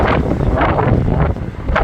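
Strong wind blows across an open windmill field in Attappadi, buffeting the microphone with a continuous loud roar and gusty rumble throughout, with no one speaking.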